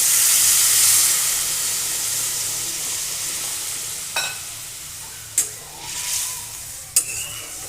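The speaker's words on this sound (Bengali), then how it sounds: "পটলগুলোকে ভালো করে কষিয়ে নেব।" Pointed gourd fries with spices in a pan. A loud hiss at first fades to a softer sizzle, marked by a few sharp knocks of a spatula.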